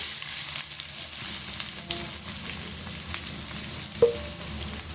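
Chopped onions and green chillies fry in an oily pan for a snack, giving a constant close sizzling crackle with a few light stirring knocks and no voices.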